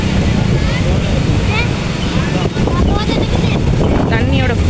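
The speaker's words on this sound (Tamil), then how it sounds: "அந்த அளவுக்கு காற்றா இருக்குப்பா இன்னைக்குன்னு பார்த்து" Strong, steady wind roaring across the microphone at Mukkombu dam in Tiruchirappalli, India, with splashing water and surf blended underneath and faint voices mixed in.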